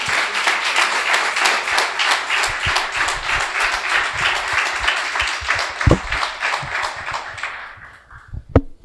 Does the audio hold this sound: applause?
yes